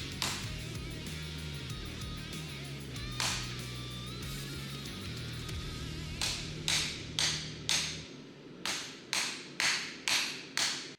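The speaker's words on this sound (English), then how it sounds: "if I just hold its spine against the anvil and hammer across the cutting edge" A hammer strikes a forged san mai santoku blade held spine-down on an anvil, first as a few scattered blows under a buzzing hum, then as a quick series of about eight sharp, ringing metallic hits.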